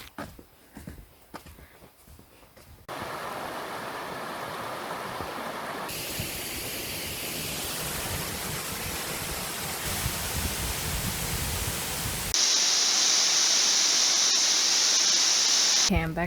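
Stevenson Falls rushes through a winter forest as a broad, steady roar that swells and grows louder over several seconds, following a few quieter moments with faint footsteps.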